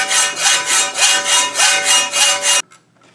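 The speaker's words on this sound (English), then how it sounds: "I'm just going to go ahead and take this off with a hacksaw." A hacksaw cuts a piece off a plastic lawnmower hood in about seven loud, even back-and-forth rasping strokes, close up, then stops abruptly.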